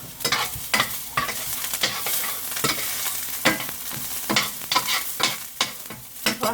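Ginger and garlic stirred in a hot pan sizzle close up, with repeated sharp scraping clicks of a utensil over a steady frying hiss.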